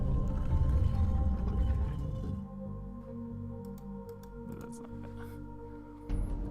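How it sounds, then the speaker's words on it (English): A whale-like creature from the video game Riven calls out with a low, droning moan over a sustained rumbling ambience, followed by a few faint higher chirps near the end. "And then 5 is the one that sounds and looks like a whale."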